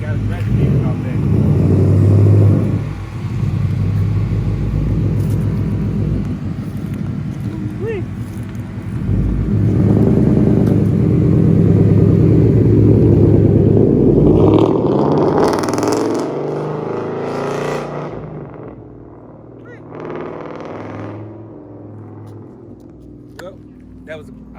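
A Ford Mustang GT engine runs loudly nearby with a steady deep rumble and rising revs, then fades toward the end; wind buffets the microphone.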